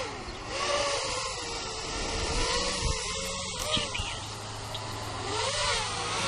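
A GPS hybrid quadcopter drone flying nearby, its motors giving a steady buzzing whine that rises and falls slightly as throttle changes, heard continuously without speech in this stretch.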